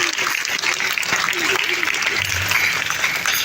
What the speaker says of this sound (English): Let's give a very big round of applause.